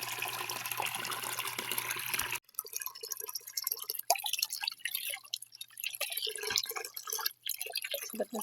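Water running from an old, moss-covered hose, a soft trickling and dripping splash, faint and close, with a low steady hum cutting off early and the flow continuing unevenly.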